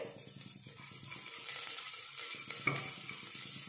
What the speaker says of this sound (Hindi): घी गरम करेंगे इसमें डाल देंगे हरी मिर्च कटी हुई मूंगफली दाने लेंगे उसको भून लेंगे